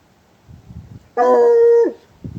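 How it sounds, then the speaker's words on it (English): An old dog lets out one loud, drawn-out howl that bends into a whimper at the end, with faint shuffling noises before and after it. "Hush! You silly old dog."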